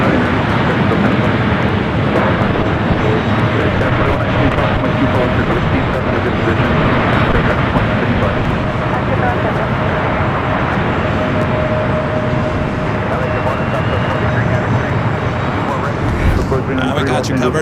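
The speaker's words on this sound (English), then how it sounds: "this 777 to 300 yard touching down there on the south side" A Boeing 777-300 touches down on the south side at LAX, a loud, dense jet roar rumbling continuously with a low thump near the end, while someone talks over it.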